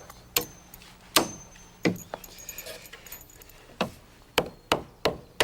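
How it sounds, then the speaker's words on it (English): A hammer drives nails into a block in wooden roof framing, with about ten sharp, loud strikes landing at an uneven pace and short gaps between them. "Then 2 nails to hold the back end of the block."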